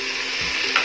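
Green peas, carrot and potato fry in a pan for vegetable biryani, giving a brief, steady sizzle with a soft low bump and a small stirring scrape at the end; no voices.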